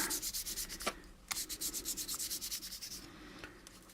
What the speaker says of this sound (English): I'm just going to take my fine sandpaper and just sand this out a little